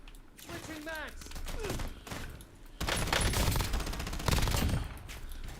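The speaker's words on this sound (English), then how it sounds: "Everyone's shooting me! Stop shooting me!" Rapid automatic gunfire bursts from a video game shooter played via Xbox Cloud on mobile, loud and dense in the second half, with a person talking excitedly over the opening part.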